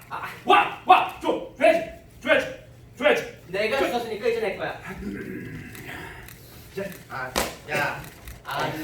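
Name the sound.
performer imitating a dog barking in a musical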